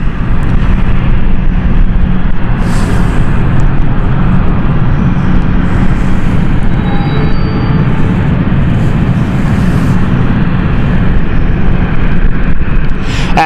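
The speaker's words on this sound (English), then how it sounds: "this is the Belfast flight, is now starting up" An Embraer airliner on the Belfast flight starting its engines at London City Airport, a loud, steady roar and whine with wind buffeting the microphone throughout.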